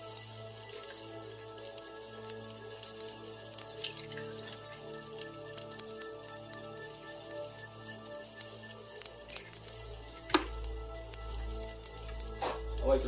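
Eggs frying in rings in a pan hiss and sizzle steadily, with scattered small pops and crackles, close and moderately loud, running continuously without talk.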